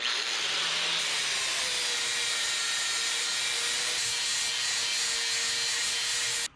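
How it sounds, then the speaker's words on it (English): Steady, loud grinding from a power tool beveling the edge of a metal part for custom control arms on a 1963 International Loadstar truck. The harsh, continuous rasp runs unbroken for several seconds, then cuts off abruptly at the end. "We're going to go ahead and put a little bevel on this edge as well"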